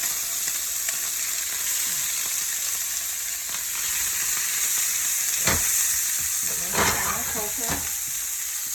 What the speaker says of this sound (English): Going to saute the green pepper and the onion together.